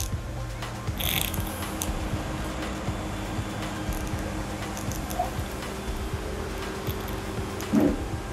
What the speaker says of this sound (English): you can see the conveyor belt is running